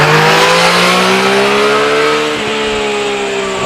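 A 2020 Yamaha MT-09 motorcycle engine captured by a remote microphone, a loud, steady roar whose pitch sweeps upward and then dips slightly, with no talking.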